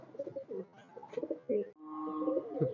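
Highflyer pigeons coo in low, throaty rolling calls, close and moderately loud, with several phrases overlapping.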